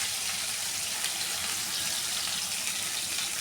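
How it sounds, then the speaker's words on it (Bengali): Fish sizzling in hot oil in a pan for a Bengali fish curry, a steady close hiss and crackle with no talk, though the sound could also be taken for running water. "আরও একটু ভাজা হচ্ছে।"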